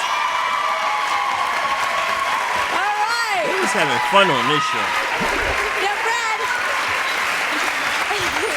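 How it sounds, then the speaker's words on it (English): A talk show studio audience claps steadily for a returning male guest, a continuous wash of applause under the host's voice throughout, with another voice briefly rising in the middle. "Let's give him a round of applause."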